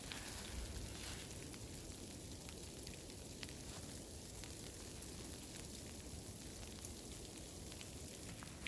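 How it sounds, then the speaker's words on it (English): Freezing rain falling steadily through trees onto a hammock campsite in the Catskill Mountains, a continuous soft hiss with scattered light ticks and patters, faint and even throughout with no talking. "it's like freezing rain."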